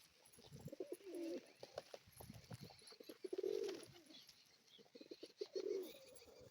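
Pigeons coo in three separate low, throaty bursts spaced a couple of seconds apart, set among steady soft background chatter and scattered noise, with the birds fairly close.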